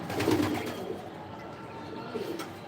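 A black pigeon coos on a rooftop loft, with a soft rolling coo at the start and another fainter one near the end, fairly close against quiet outdoor background.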